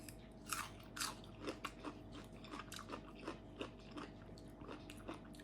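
Raw Krustistel vegetable being bitten and chewed close up, a steady run of crisp, wet crunches repeating every half second or so, with no talking over it.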